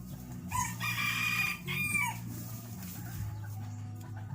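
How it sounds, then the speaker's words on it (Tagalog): A rooster crows loudly nearby while hens cluck in the background, with steady farmyard noise underneath. "Mamaya magpapakain ba ng mga manok, kaya nung nag-iingay na sila."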